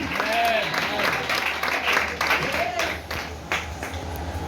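A church congregation applauds and cheers for Jesus, a lively spread of clapping with voices rising over it.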